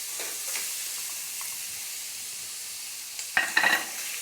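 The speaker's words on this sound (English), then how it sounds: "Now I'll add some onions." Onions frying in a pan give a soft, steady sizzle, then a louder burst of crackling and spatter near the end as they are stirred, with no talking.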